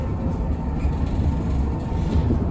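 Steady low rumble and road noise heard from inside a moving trolleybus in Kyiv, a continuous close drone with faint rattles and no talk.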